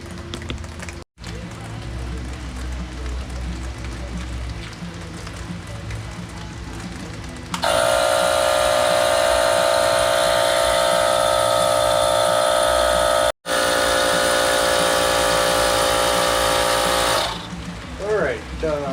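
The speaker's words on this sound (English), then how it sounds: "It's just threaded onto the Presta valve, and now I can use a normal pump to pump these tires up." A powered pump fills bicycle tires through a Presta valve adapter on a Husqvarna HC1 bike, running as a loud steady drone for about ten seconds after low background noise and talk.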